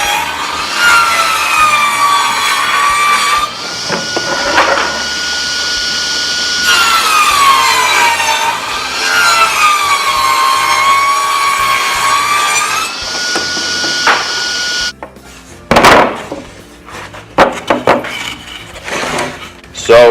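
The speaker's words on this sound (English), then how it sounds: "So we're going to cut this into strips for the base of the hive." A saw runs steadily while cutting plywood into strips for a beehive base, a sustained whining tone with shifting pitch as the blade bites, close and loud, ending in clattering handling noises.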